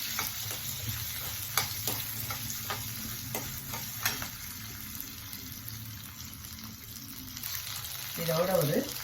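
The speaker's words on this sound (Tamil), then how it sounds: "பல்லு பூண்டு, ஒரு கைப்பிடி அளவு சின்ன வெங்காயம் இதெல்லாம் போட்டு வதக்கிண்டு அதோட ஒரு சின்ன துண்டு இஞ்சி இதையும் போட்டு நல்லா வதக்கிக்கலாம்" Garlic, small shallots and a piece of ginger sautéing in a pan, a faint steady sizzle with intermittent stirring scrapes, ending in a brief louder clatter.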